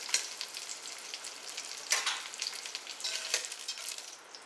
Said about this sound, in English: I'm going to put the meat in.